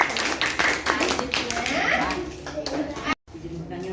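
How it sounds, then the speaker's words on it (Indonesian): Classmates clap for a student named Hairul during a junior high school science teaching exam in a classroom, a dense burst of hand claps with voices chattering over it, cutting off abruptly near the end. "Beri tepuk tangan untuk Hairul."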